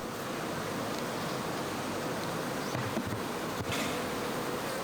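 Honeybees at a hive fan their wings in a steady, dense hum, a soft continuous buzzing drone with no voices, even throughout and moderately faint.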